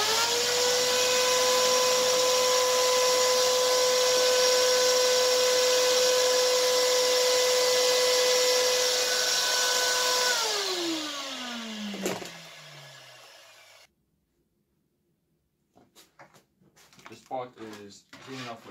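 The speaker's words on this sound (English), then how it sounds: "And then I'm just going to give it a quick vacuum." A vacuum cleaner runs loudly on coffee roaster ducting, a steady whining roar that winds down in pitch and cuts off, followed by silence and a few faint knocks and handling sounds.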